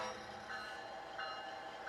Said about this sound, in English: train that Dave Enger brought over, and you can see him here operating it across the drawbridge across the Duwamish River in South Seattle